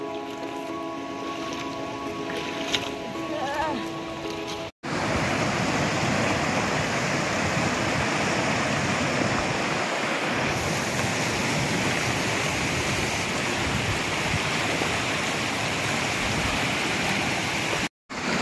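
River water rushing steadily around someone wading across the riverbed, a continuous close wash of flowing water that fills nearly the whole stretch after a quieter opening.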